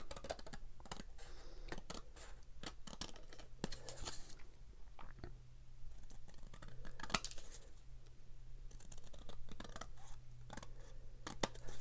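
Scissors fussily snipping out a paper piece for a festive desk tag holder, a quiet close run of small irregular clicks and crisp cuts with brief pauses, no talking.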